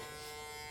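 A Rebel hair clipper buzzes steadily while tapering hair, a short, faint, even electric hum with no pauses.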